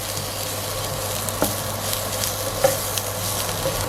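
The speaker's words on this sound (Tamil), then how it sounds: "நல்ல மனம் தர உங்களுக்கு வதக்கிக்கலாம், நல்ல வாசமாக இருக்கும்." A spice mixture with ginger-garlic paste for Jaffna-style gram curry sautés in a pan, giving a steady close sizzle with a few light scraping knocks from stirring.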